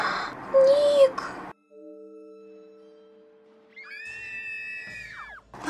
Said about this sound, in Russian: Девчонки, у вас все хорошо, что вы кричите?